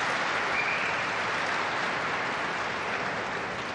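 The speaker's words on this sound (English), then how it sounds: "Big applause on an outside table." Sustained, dense applause from spectators at an outside table during a 2004 World Pool Championship match, a steady wash of clapping that holds evenly throughout without a break.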